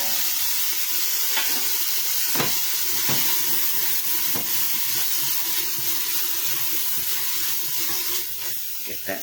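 A tablespoon of real butter sautéing in a pot for chicken chile with white beans, giving a steady, even hiss broken by a few light utensil knocks, with no voices.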